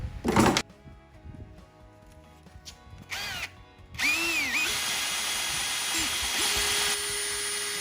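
A power drill whirs in several bursts while drilling holes in wood, revving up and winding down, its motor pitch rising and falling, with a longer steady run at the end.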